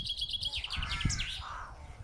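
Birdsong from crows around nests overhead at dawn on the Hill of Tara, a few chirpy calls rising and falling over about two seconds, moderately loud and near, with no talking.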